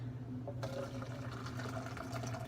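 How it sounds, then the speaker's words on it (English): Hot boiled water pours from a kettle into a brewing keg holding malt extract, a steady splashing gush that starts abruptly and runs continuously, close and clear, with no talk. "So we're just going to go ahead and pour that in here"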